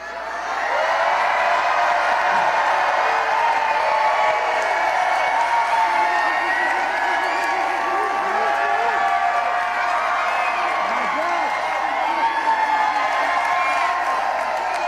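A large crowd at a Detroit presidential campaign rally cheers, whoops and claps continuously, a loud sustained roar filling the hall.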